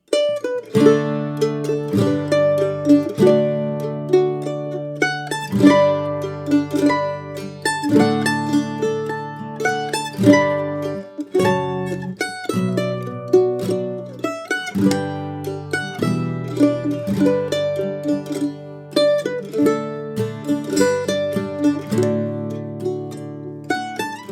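Mandolin playing the Scottish folk song Wild Mountain Thyme, mixing crosspicked runs with strummed chords in a steady lilting rhythm, close and bright with no voices.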